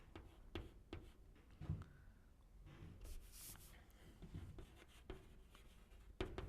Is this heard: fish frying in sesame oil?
no